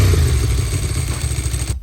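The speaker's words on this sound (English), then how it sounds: "This is their 2-valve motor, and this thing sounds like the Italian version of Harley Davidson." A Ducati two-valve motorcycle engine runs close and loud with a steady, lumpy throbbing idle that cuts off abruptly at the end.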